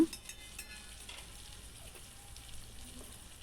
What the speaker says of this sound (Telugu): ఈ అల్లం ఎల్లిగడ్డ కూడా కొంచెం ఫ్రై చేయాలి